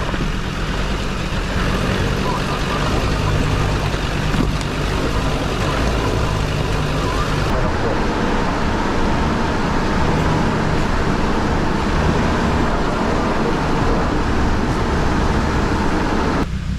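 A Suzuki Jimny fitted with a converted PD diesel engine drives off-road in low range, its engine droning steadily and fairly close for the whole stretch, with rumbling tyre and chassis noise and no talk.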